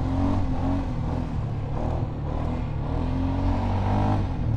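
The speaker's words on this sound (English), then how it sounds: "this Sportsman 570 is powered by a 44 horsepower single cylinder four-stroke motor, CVT transmission that you can hear working away." A Polaris Sportsman 570 ATV runs its 44 horsepower single cylinder four-stroke engine through a CVT transmission, giving a steady, close, loud drone with a continuous whirring hum and no talk.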